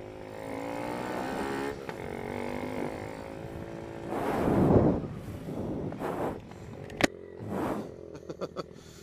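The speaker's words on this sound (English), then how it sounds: "It actually gave the exhaust a different tone." A Honda Z125 motorcycle fitted with a Bazzaz mod runs while being ridden, its exhaust humming low and steady under wind buffeting, with a swelling rev partway through and a few sharp clicks near the end.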